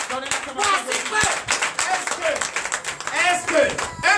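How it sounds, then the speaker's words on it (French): A congregation at a night deliverance church service claps in acclamation, with close, uneven claps mixed with loud voices and shouting throughout. "Donnez l'acclamation à Jésus."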